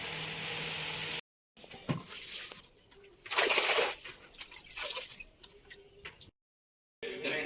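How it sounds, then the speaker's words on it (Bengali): Water drips and splashes while a child is bathed, in close, uneven bursts broken by short silent gaps. "ন্যান্টুমোনা, তুই স্নান করছিস?"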